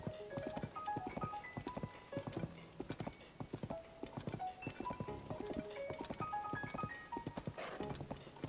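A horse gallops in the video game The Legend of Zelda: Tears of the Kingdom, with quick rhythmic hoofbeats running throughout over light game music.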